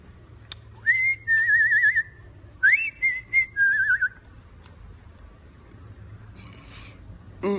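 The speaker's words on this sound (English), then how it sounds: "Nice whistling, 10 out of 10." Someone whistles a short wavering tune in two phrases, each a few warbling notes, close and clear over a quiet room hum, then a brief rustle.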